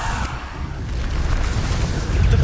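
A Bombarda spell explosion in Hogwarts Legacy, a loud rumbling blast with a sharp burst at the start and a swelling low boom toward the end.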